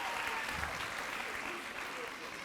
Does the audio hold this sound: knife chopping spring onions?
no